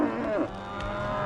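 Cattle moo loudly and close by in one short drawn-out call during a cattle drive toward a gate.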